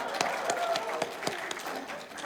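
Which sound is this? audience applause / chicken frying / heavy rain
audience applause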